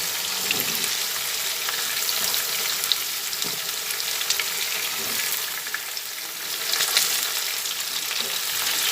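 Potato and pointed gourd pieces fry together in a pan with a steady, close sizzle, broken by occasional soft stirring scrapes and clicks; no one speaks.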